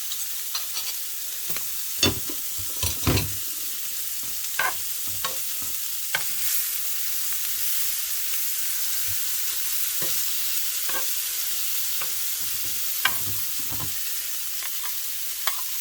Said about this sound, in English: I know you shouldn't use a metal spoon in a pan like this, but I don't care.